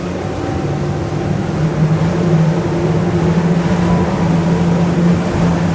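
The engine of a 35-foot motorboat running at high revs, around 4,500 rpm, a loud steady droning roar with a constant low hum and rushing water noise throughout, with no voices.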